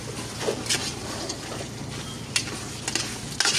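Beef cubes fry in a pan with chili garlic for beef pares, a continuous close sizzle with occasional spatula scrapes and stirring clatter.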